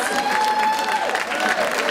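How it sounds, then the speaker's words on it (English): Dense clapping from a crowd at a retirement reception, continuous and fairly loud, with a faint voice or whistle-like tone mixed in. "Let's give them one more round of applause."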